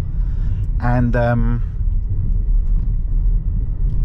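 A tiny Toyota Aygo X-Trend with a 1 litre engine drives through London, its low, steady engine and road rumble droning throughout under a brief spoken word.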